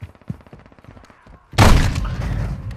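Gunfire in the video game Call of Duty Modern Warfare, a sudden loud burst of shots and impacts after a quieter stretch of faint rhythmic sounds.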